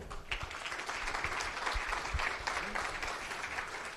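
A summit audience gives a sustained round of applause, with many hands clapping at moderate loudness and a few sharper claps standing out near the front.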